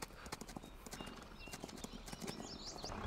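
Horse hooves clop in a quick, steady rhythm in Farming Simulator 22, a brief whinny at the end, with faint voices talking underneath.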